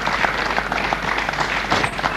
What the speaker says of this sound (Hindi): please keep the applause going